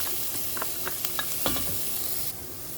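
Onion frying in olive oil in a pan, a soft continuous sizzle with a few crackling pops and a brief stirring scrape, quiet and close, ending abruptly.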